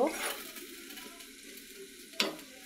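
Tomato goes into a pan of prawns frying with taro stolons. A quiet, steady sizzle follows a brief burst at the start, with a sharp clink of a utensil near the end.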